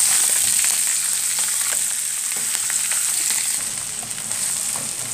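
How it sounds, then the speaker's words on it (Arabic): Sausage fries in a small amount of ghee or oil, giving a loud, steady, close sizzle with brief scraping clicks as it is stirred and turned, no speech. "احنا كده قلبناه تقلبتين يا دوبك شوحناه"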